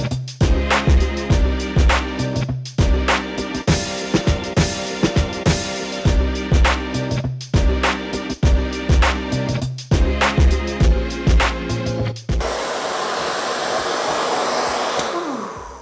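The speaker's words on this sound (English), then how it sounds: "I'm going to use my diffuser and get some bigger curls." A handheld hair dryer fitted with a diffuser, drying curly hair, blows a steady, fairly loud whooshing rush for the last few seconds. Rhythmic music plays before the dryer comes in.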